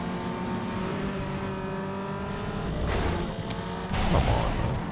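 Racing cars in Need for Speed Underground 2 hold a steady engine drone throughout, with louder surges and bursts of roaring acceleration as two Audi Quattro rivals shoot off ahead during a circuit race.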